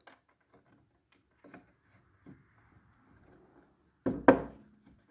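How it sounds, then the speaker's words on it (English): A third woodworking clamp is fitted and tightened onto a wooden workpiece on an Oliver CNC router, giving a short burst of knocking and scraping contact near the end, after faint scattered rustles. "for insurance, we'll put in this 3rd clamp"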